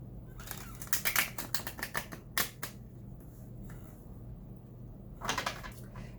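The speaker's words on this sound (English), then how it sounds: "go ahead and do one more shuffle" A tarot deck is shuffled by hand, a run of quick crisp riffling snaps near the start, a brief pause, then another short burst of card flicks, close and fairly quiet with no talking.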